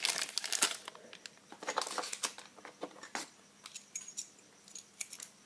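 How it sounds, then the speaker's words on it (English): Original Lane lock keys jangle and clink in the hand, a close, busy rattle of metal on metal in irregular bursts with short pauses, no voices. "It's got the original lane keys."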